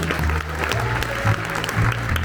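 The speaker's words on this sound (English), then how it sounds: "Give them a round of applause." A college choir audience claps for two soloists at a chamber singers concert, a short run of moderately loud applause with low tones from the performance lingering underneath.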